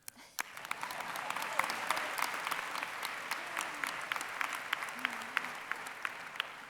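Steady applause from a large audience at a university undergraduate commencement ceremony, many hands clapping continuously with scattered sharper claps standing out, a few voices faintly beneath.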